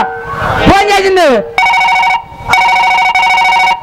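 A phone rings with a loud electronic ringtone in repeated bursts, preceded by a brief exclaimed voice.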